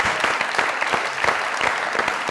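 Enthusiastic applause from a comedy talk-show studio audience, dense and fairly loud clapping from many hands, close and sustained for the whole short stretch.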